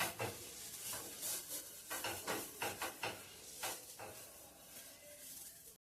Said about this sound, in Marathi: तवा गरम झालाय आता आपण याला तेल लावून घेऊया आधी आणि कांदा घेऊन त्याला एक तेल तरी पसरून घेऊया